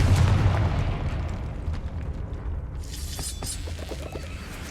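A Confringo explosive spell is cast in the video game Hogwarts Legacy, setting off a loud, booming blast that gives way to a crackling, rumbling tail of debris.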